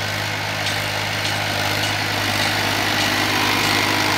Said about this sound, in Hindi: आज यहाँ बारिश पड़ी, गिल्ले खेत में टीलर के साथ मैड़ा चला रहा है।